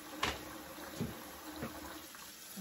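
Water runs and splashes while tea things are rinsed clean, a soft continuous trickle broken by a few brief clinks and splashes, close by and fairly quiet, with no talking.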